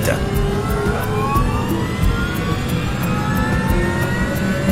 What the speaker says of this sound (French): En enregistrant le son des moteurs de l'intérieur du cockpit